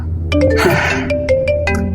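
A cartoon-style phone ringing effect in a Hindi animated horror story: a series of bright, repeated electronic chime tones over a steady low background hum, ringing in short bursts across the whole clip.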